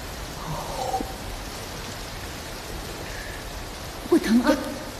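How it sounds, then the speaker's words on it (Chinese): Heavy rain falls outside as a steady, even hiss that fills the whole stretch, with a brief voice-like sound rising near the end. "外面现在下着大雨"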